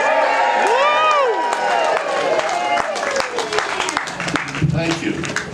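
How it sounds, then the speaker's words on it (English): A large crowd at a historical reenactment in Tucson cheers and applauds steadily, with whoops and scattered claps over a continuous roar that stays loud throughout, mixed with voices. "We all should cheer."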